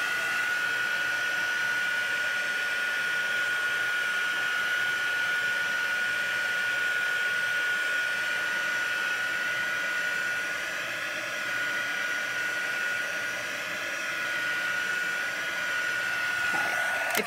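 The Boss heat tool from Crafter Solution blows steadily over watercolor paper, a loud continuous whooshing hum with a fixed whine, holding unchanged close by throughout with no talk.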